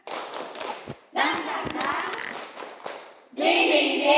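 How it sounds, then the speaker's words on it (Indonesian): A group of students performs a rhythmic spirit clap (tepuk semangat) in a classroom, with bursts of clapping and chanting voices, a short pause, then a louder, denser final round. "Tepuk semangat."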